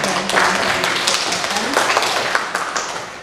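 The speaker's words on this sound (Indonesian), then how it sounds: "Berikan tepuk tangan untuk Pak Andi atas" Audience applause at a vocational school program session, a dense burst of many hands clapping fairly close and loud, with scattered voices and murmuring mixed in.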